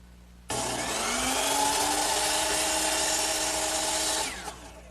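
A power saw cuts a cove on a wooden mirror frame at 22.5 degrees, starting abruptly and whining loudly and steadily for about four seconds before spinning down.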